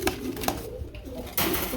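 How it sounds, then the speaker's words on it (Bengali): A pair of large pigeons gives brief low coos at close range, with short clattering bursts at the start and end. "বড় সাইজের, বিগ সাইজের এক জোড়া কবুতর।"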